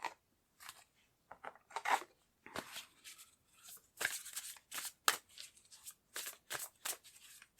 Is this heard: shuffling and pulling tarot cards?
yes